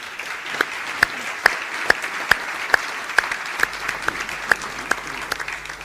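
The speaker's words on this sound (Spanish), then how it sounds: "A todos ellos un fuerte aplauso." Applause from the audience at a Buenos Aires journalism conference session, a steady wash of clapping with a few sharp louder claps standing out at regular intervals, fairly near and continuing for several seconds without talk.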